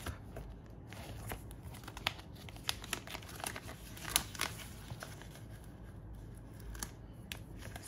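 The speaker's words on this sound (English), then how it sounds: "let me just again grab my Etsy stickers" Sheets of Etsy stickers are handled close up in a faint, quiet passage. Light paper crinkling, rustling and soft taps come in scattered bursts, with no talking.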